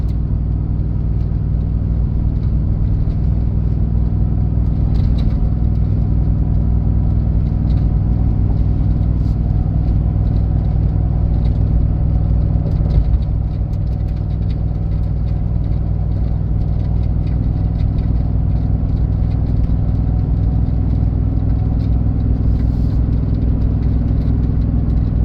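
A 2015 Ford F-250 pickup truck with a 6.2-litre engine rumbles steadily and loudly while driving, a deep low drone, unchanging throughout.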